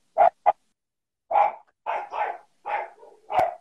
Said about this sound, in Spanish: Ya. Los perros son.